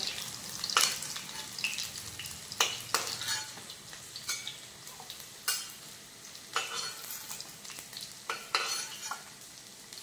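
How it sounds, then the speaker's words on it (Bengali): Fritters sizzle in hot oil in a home kitchen while a utensil stirs and scrapes the pan in irregular clinks and scrapes over a steady bubbling hiss; no one speaks. "বড়াগুলো খুব সুন্দর করে ভাজা হয়ে গিয়েছে লাল লাল করে"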